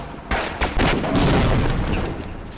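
Grenade blasts in the Half-Life game come as a few sharp booms in quick succession, then merge into a loud, sustained rumble of explosions and gunfire, close and forceful, with no voices.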